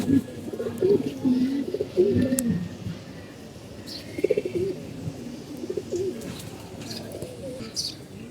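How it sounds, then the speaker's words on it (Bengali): Domestic pigeons cooing in a loft, several soft repeated coos close by with faint chirps, under a voice talking in Bengali. "এই যে একটা কবুতর দেখতে পাচ্ছেন"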